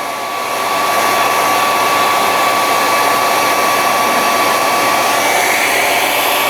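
A hair dryer blasting heat onto a 1/72 Sinanju model kit piece, a loud, steady close-up whoosh with a constant motor whine that runs unbroken throughout.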